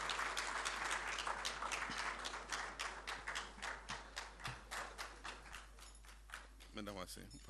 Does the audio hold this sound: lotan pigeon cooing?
no